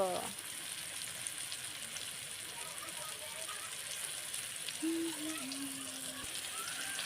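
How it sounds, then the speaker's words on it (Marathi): Fish fries in a pan on a gas stove set on the ground outdoors, a soft, even sizzle running throughout with faint voices in the background. "गॅस खाली ठेवले जमिनीवरती खेपी फ्राय मारून मस्त मस्त"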